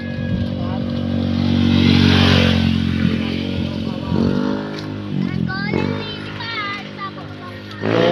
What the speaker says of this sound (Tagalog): Kaya maingay motor, mag-New Year na bukas